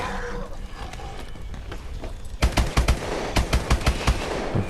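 Rapid bursts of automatic gunfire in the Exo Zombies video game, starting halfway through as a loud series of close shots over a busy game background.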